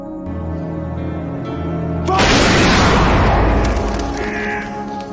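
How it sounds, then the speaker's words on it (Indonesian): Firing squad gunshots in a war film about the Irish civil war: after a tonal musical passage, a sudden heavy blast bursts out and rolls on as a loud, dense roar. "Alhasil dia pun dengan sangat sedih memerintahkan pasukannya untuk menembak Damien"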